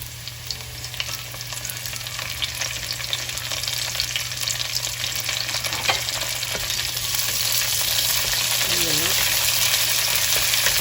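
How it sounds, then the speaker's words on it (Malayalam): Curry leaves frying in hot oil for Kerala chammanthi podi, a continuous loud crackling sizzle with steady bubbling close up, holding level for several seconds under a faint hum. "നെക്സ്റ്റ് ഞാൻ ഈ കറി ലീവ്സ് ഇടുവാണേ."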